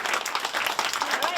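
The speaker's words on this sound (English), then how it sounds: "let's give them a round of applause" Audience applause after a call for a round of applause at an evening animal show, a dense wash of clapping filling the whole short stretch at steady loudness.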